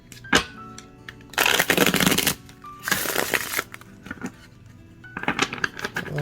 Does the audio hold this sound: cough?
no